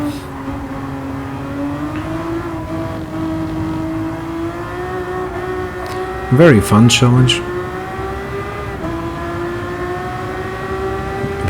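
Ferrari race cars such as the F50 and F40 in Gran Turismo 7 drone along a straight with a steady engine pitch, then a brief louder burst of whooshing engine sweeps as one is overtaken, with someone talking throughout.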